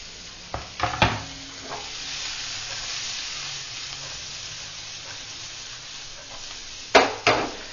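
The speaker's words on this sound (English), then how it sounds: "I'm adding onions to this, the finely chopped onions. We'll fry it till it's cooked." Finely chopped onions frying in a pan for chicken masala, giving a steady soft sizzle and hiss with a few sharp clinks of a utensil against the pan at the start and again near the end, no talking.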